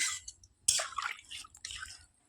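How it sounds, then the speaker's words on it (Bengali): Hot water poured into a cooking pot of cauliflower, potato and spice gravy over a clay stove, heard as irregular close splashing and gurgling bursts separated by short pauses, with no talking. "এখন আমি এতে গরম জল অ্যাড করে দিচ্ছি"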